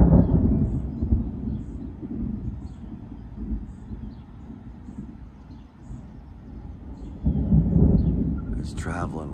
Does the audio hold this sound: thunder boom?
yes